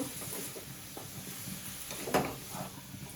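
Food fries in a salted pan with a soft, continuous sizzle and patter, fairly quiet, broken by a brief clatter of a utensil.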